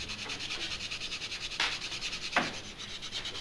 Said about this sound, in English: I'm going to sand it real quick here.